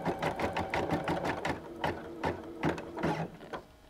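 Embroidery machine stitching a decorative design for crazy quilting, giving off a fast, steady mechanical clatter of rhythmic needle strokes and whirring gears, close and moderately loud, with no talking.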